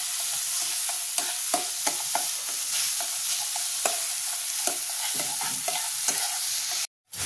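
Shrimp dhokar dalna is stirred in a hot pan, a spatula scraping in quick irregular strokes over a continuous oily sizzle, close and fairly loud with no voices, ending in a brief silence.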